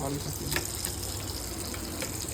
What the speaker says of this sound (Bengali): মাছ ভাজতে অনেক টাইম লাগে মাছ উল্টানো হয়ে গেছে